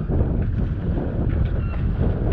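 Strong wind rushes on open water as a boat leaves the harbour at La Trinité-sur-Mer. It is a loud, continuous roar and buffeting against the microphone, with no speech.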